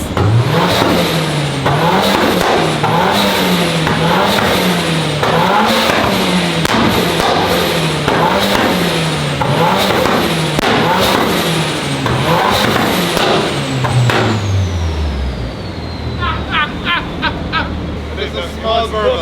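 A Toyota four-cylinder engine in a Nissan S15 revs loudly and repeatedly in a rising and falling rhythm, with a deep exhaust note. It then drops back and settles into a soft crackling burble as the revs fall away. People talk underneath.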